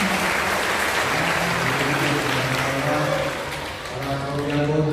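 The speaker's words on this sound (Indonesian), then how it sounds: "berikan tepuk tangan yang meriah" A church congregation at Sunday evening Mass claps in a sustained, even wave of applause for about five seconds, dipping briefly near the end, with a voice or music faintly underneath.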